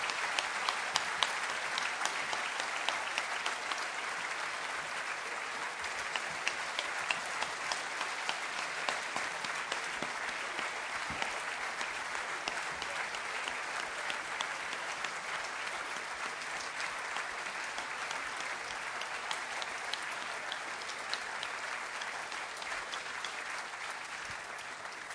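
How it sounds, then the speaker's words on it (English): A lecture audience gives long, sustained applause after a talk on Ireland and Britain. Many hands clap steadily for over twenty seconds with hardly any voices. "I think that the applause indicates the reaction of the audience to your words"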